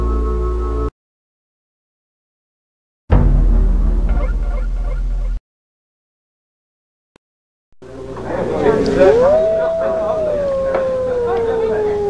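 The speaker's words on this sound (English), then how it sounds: "It was a wolf's howl, Governor." A wolf howls in the Dracula Unleashed video game at night, a long, loud cry that rises and then slowly falls. Earlier there are short bursts of other ambient sound separated by silence.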